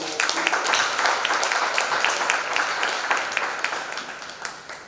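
Audience at a founders day café gathering in Mbarara claps with distinct, closely spaced hand strikes, loud and near, forming a lively round of applause that gradually thins toward the end.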